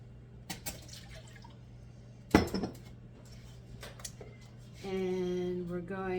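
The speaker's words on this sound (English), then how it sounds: "into it we are going to add a 1/2 cup of milk" A half cup of milk is poured into a bowl. Clinks and a sharp knock of dishes come first, then the pour sets in as a short, gurgling stream over the last second or so.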